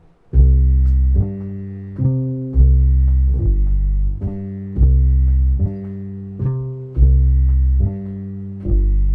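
A loud, solo bass guitar plays a repeating bossa nova pattern, alternating deep root and fifth notes in a steady, syncopated rhythm.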